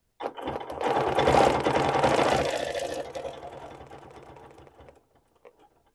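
A sewing machine stitches a quilt along a ruler while quilting circles, running in a steady, loud, close whir for a few seconds, then slowing and trailing off to stop, with no voices.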